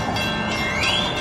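A train pulls into UNT Dallas station with a loud, continuous rumble of wheels on rails and a rising squeal of wheels, heard close and alone.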